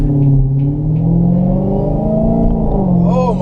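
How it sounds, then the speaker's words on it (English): Supercharged engine of a Dodge Charger SRT Hellcat muscle car drones loudly from close by as it pulls under acceleration, its pitch rising and falling, with a brief whining sweep near the end. "Do you hear that supercharger one?"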